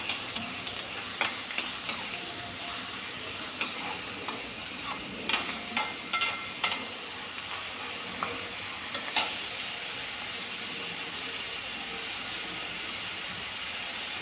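Onions fry for a soya chunks masala, giving a steady, faint sizzle with a series of soft scraping stirs in the pan at irregular intervals, close and without talk.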